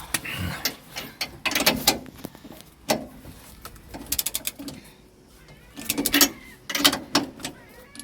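A ratchet tightens leaf spring bolts on a Ford Capri rear axle, with bursts of rapid clicking separated by pauses and small mechanical knocks, close up with no speech.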